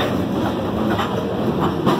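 A Norfolk Southern freight train pulls slowly out of a small yard in Geneva, New York, heading southbound; a steady, loud rumble of rolling cars with faint rhythmic wheel clatter throughout.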